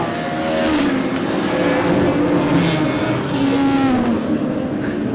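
Racing cars pass by at the Brands Hatch circuit in a dense, loud succession, their engines rising and falling as they filter through one after another, with no talking.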